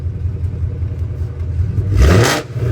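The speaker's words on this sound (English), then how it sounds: "Give her some revs." A 2024 Mustang GT with a full aftermarket exhaust idles with a deep exhaust rumble, then revs up once in a brief loud burst before settling back.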